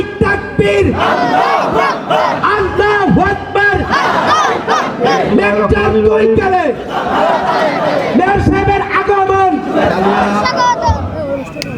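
A large crowd at a religious protest rally in Kalia roars a chanted takbir response in loud, repeated waves, with a leader's amplified call overlapping the massed voices.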